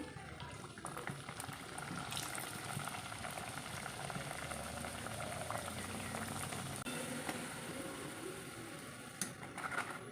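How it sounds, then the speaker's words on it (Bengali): Khaja, a flaky flour pastry, deep-frying in hot oil, giving a steady, even bubbling sizzle that runs unbroken for about ten seconds with no talking. "এখন এটাকে তেল থেকে তুলে নিচ্ছি এইভাবে সবগুলো আমি একে একে ভেজে নিব আবারও একটা ভেজে দেখাচ্ছি"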